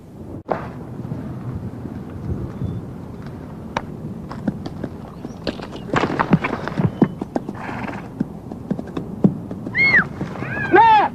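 A horse whinnies and snorts amid hoof clatter and scuffling as it spooks during a ride, with sharp neighs rising near the end, close and fairly loud.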